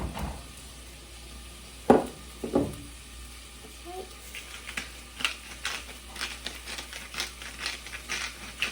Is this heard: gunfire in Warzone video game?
no